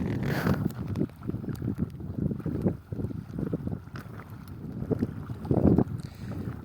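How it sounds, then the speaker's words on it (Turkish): Steady northeast wind blows across an open outdoor space while carp fishing, a low rumbling wash with gusty surges, no voices heard. "Şu anda bulunduğumuz bölgede kuzey doğu rüzgar esmekte."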